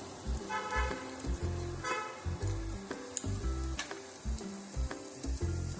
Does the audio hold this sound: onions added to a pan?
yes